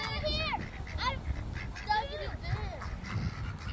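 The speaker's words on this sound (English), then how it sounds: "These poor ducks think we have food because the boys are tricking them." Ducks quack repeatedly in short, close calls outdoors, mixed with people talking.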